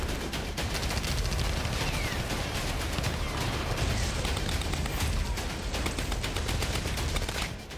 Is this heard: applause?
no